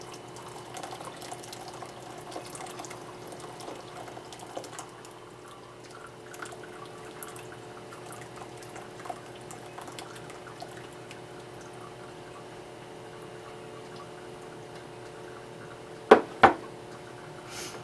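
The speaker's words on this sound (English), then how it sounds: "we're just straining the elderberries so we don't have any elderberry in the juice" Boiled elderberry juice strained through a strainer, a soft continuous trickle and drip of liquid running steadily for a long stretch, ending with two brief clanks.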